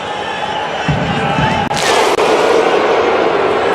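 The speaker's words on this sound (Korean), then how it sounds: "아이슬란드를 응원하는 이 팬들의 정도를 알 수가 있는 바이킹 박수입니다" Iceland fans at the World Cup in Russia performing the Viking thunderclap: a big stadium crowd hum broken by one sharp, booming mass clap and a fainter second hit, with a commentator talking over it.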